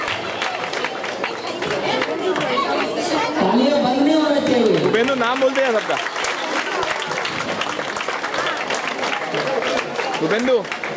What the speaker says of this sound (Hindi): तालियां बंद नहीं होना चाहिए।